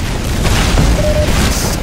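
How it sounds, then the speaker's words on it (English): Rocket blasts in a Team Fortress 2 match thunder in a dense, continuous roar of booms and bursts, loud and close with no clear gaps. "So many fucking rockets flying."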